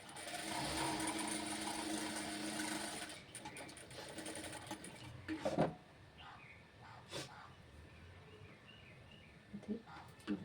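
A sewing machine runs steadily for about three seconds while stitching a size 32 princess-cut blouse, loud and close, then stops, followed by scattered handling clicks and faint background chirps.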